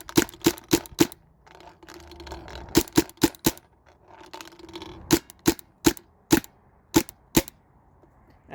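A Tippmann A5 paintball marker running on CO2 fires into layered cardboard, its sharp snapping shots coming close and loud in quick bursts of three to five, with short pauses between volleys.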